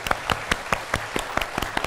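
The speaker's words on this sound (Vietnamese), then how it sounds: "Xin quý vị khán giả hãy cho một tràng pháo tay cho nghệ sĩ nhân dân Hồng Nga." An audience at a televised dating show claps for People's Artist Hồng Nga, a cải lương star. The crisp, fairly sparse claps come in a quick, even rhythm for a short moment.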